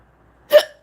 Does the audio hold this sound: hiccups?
yes